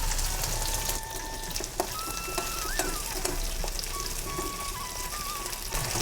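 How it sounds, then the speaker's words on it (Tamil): Shallots fry in hot oil with dried red chillies and curry leaves for a Kerala ulli theeyal, giving a soft, steady sizzle with faint clinks and scrapes of a spoon, fairly quiet and without talk. "இப்போ வெங்காயம் நல்லா செவந்துச்சுங்க."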